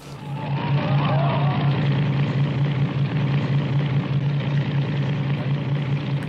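A steady, loud jet aircraft engine roar drones continuously, a low humming rumble holding level throughout with brief faint voices early on, from the 1970 film Tora! Tora! Tora!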